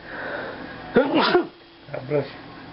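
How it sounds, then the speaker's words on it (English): A single sharp sneeze bursts out around the one-second mark, followed by a brief pause and a short murmur of voice. "And I'm gonna sneeze."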